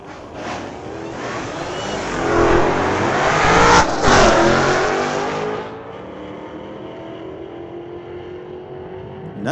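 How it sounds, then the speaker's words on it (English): A Ford Mustang accelerates hard down a drag strip at a street-legal night drag meet, its engine roaring loud and building to a peak mid-run, then fading into a steady distant drone. "Another cool sounding Mustang."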